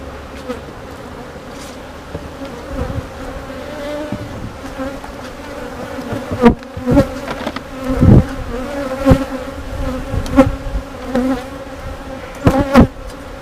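A steady drone of many honeybees buzzing close by around a hive, with individual insects swelling louder as they fly past.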